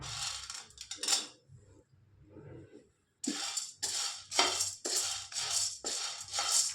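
Chickpeas and fava beans dry-roasting in a kadhai, stirred with a spatula, giving bursts of close rattling and scraping with brief quiet gaps.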